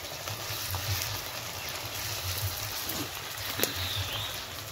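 Crushed garlic fries with onions in a pan while being stirred. The soft, steady sizzle has occasional scraping touches under a low background hum, with no talking.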